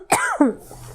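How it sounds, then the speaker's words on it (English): An old man gives two sharp, close coughs in quick succession, harsh and throaty, then falls quiet. "What's causing you to cough so much?"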